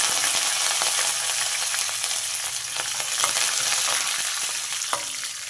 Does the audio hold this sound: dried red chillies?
yes